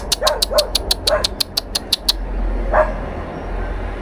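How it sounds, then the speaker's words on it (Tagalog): A dog barks repeatedly nearby at a cemetery, a quick run of about eight sharp, loud barks followed by one more after a pause, over faint background noise. "May asong tumatahol, guys."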